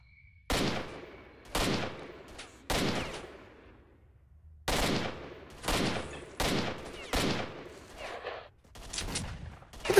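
Gunfire in the S.T.A.L.K.E.R.: Shadow of Chernobyl video game, with about eight loud, sharp shots fired singly or in short pairs at irregular intervals, each followed by a brief decaying echo, and no talking.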